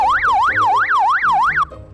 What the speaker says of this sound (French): c'est le bruit américain, ça